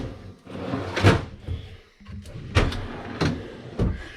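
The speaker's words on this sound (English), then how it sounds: "Look at these pull-out trays." Pull-out storage trays slide open and shut in a Canterbury Parkvue 38SSL-SL park model RV, giving several separate close, sharp sliding thumps with short pauses between them.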